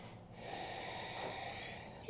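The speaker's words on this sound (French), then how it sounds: "Prenez encore une longue respiration." During a yoga flow, a long, deep, steady breath is drawn in and released through the nose, soft and airy and close, ending in a brief sharper sound.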